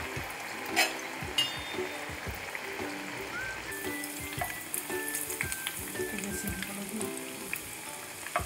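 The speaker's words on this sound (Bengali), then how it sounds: "তেল গরম হয়ে গেছে, এবারে জিলাপিগুলো ভেজে নেব।" Chhanar jalebi frying in hot oil, a steady bubbling sizzle with crackles running throughout and a few scattered clinks and taps of utensils.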